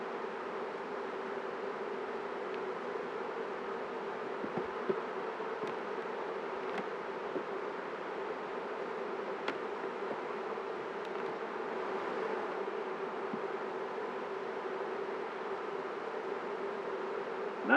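Honey bees hum in a steady, soft drone while a full beehive is opened for inspection, with a few faint clicks and knocks of handling scattered through.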